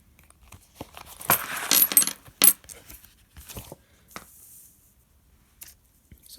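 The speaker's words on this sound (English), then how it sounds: "I'm gonna take out the bills first and then I'll count the change." Coins and loose change being counted out from an envelope on a table, with several bright metallic clinks and clatters clustered in the first half, then sparser soft handling taps and rustles.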